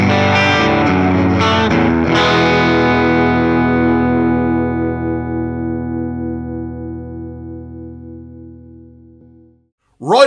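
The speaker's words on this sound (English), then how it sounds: "And again, the bypass sound is this." Electric guitar in bypass on a Fender Tone Master Pro, with no effect engaged: a few strummed chords, then one chord left ringing and slowly decaying for several seconds before it is muted.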